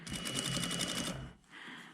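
A sewing machine stitching over the seam of a jacket stand collar, a fast, steady mechanical whir of needle strokes that runs for about a second, then stops and is followed by a softer, lighter hum.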